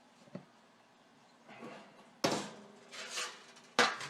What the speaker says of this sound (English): Then you want to gently, carefully lift off the bundt pan.